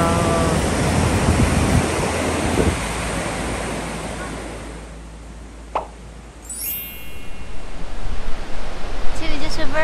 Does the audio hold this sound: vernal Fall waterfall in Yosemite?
yes